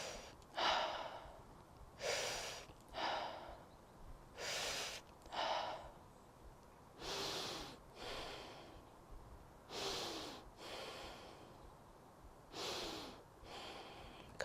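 Slow, deep breaths during a beginner's full-body fascial stretching exercise: repeated separate inhale-and-exhale pairs, close and fairly quiet, evenly spaced with short pauses between, and no talking.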